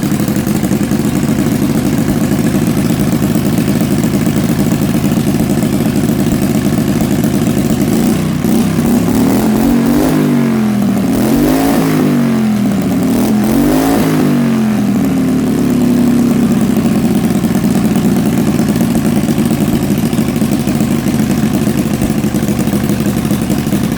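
Race engine running loud and close at a steady idle, briefly revved twice in the middle with rising and falling swells, then settling back to an even rumble.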